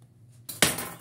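Paper muffin cups set into an air fryer basket, a single close, sharp clattering knock with brief rattle, no talking.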